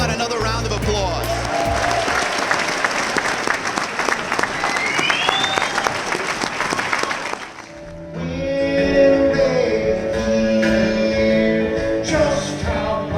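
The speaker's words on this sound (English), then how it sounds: "How about another round of applause?" Loud applause from a convocation crowd honoring guests, dense clapping with some cheering for about seven seconds, then giving way to music with voices.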